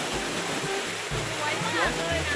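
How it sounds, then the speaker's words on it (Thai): Steady broadband rush of falling water from Khlong Pla Kang waterfall in Rayong, Thailand, with a voice speaking briefly over it. "เป็นน้ำตก"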